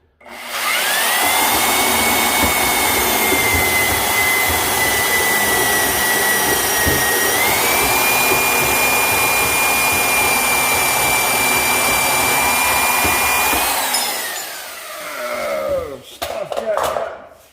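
A power cutting tool slices through a small piece of metal in a garage, a loud steady whine holding one pitch with a dip partway, then winding down, followed by brief clatter.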